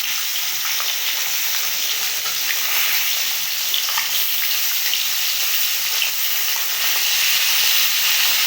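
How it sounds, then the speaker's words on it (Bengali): Koi fish frying lightly in hot oil during village cooking, with a steady broadband sizzle and scattered small crackles throughout, close and continuous with no speech. "মাছটা হালকা ভাজবো, বেশি ভাজবো না।"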